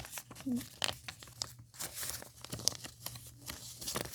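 Paper being folded into a paper airplane, with repeated crisp crinkling and creasing rustles close by, scattered irregularly across the stretch alongside brief speech.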